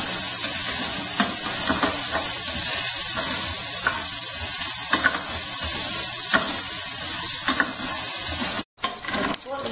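Pork for dinuguan frying in its own rendered fat in a pan, a steady loud sizzle with occasional pops and stirring scrapes, close up, broken by a brief dropout near the end.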